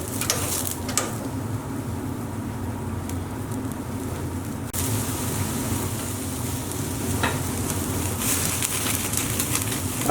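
Basturma kebab skewers sizzle steadily on a grill as they cook, a continuous broadband frying hiss with faint bird calls in the background and no talking.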